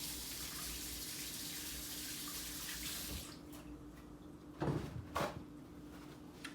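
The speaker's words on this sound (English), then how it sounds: "Just wash my hand." Running kitchen tap water splashes steadily as hands are washed under it, then the flow stops and a couple of soft knocks follow in a quiet kitchen.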